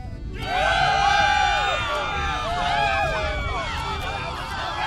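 A crowd cheers and whoops in Borderlands 3, voices swelling loudly into a sustained roar that tapers slightly but keeps going with overlapping shouts.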